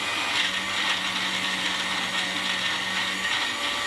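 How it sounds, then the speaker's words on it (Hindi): An electric blender grinds mint chutney in a kitchen, giving a steady, dense whirring roar that continues without a break and sits loud and close. "ये हो रहा है ग्राइंड, आहिस्ता आहिस्ता ग्राइंड होता जा रहा है।"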